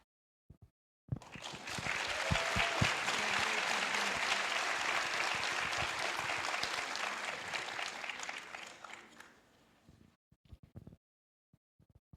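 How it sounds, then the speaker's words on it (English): A crowd applauds loudly and steadily for several seconds at a Board of Education meeting, then the clapping thins out to a few scattered claps before silence. "Give them one more round of applause."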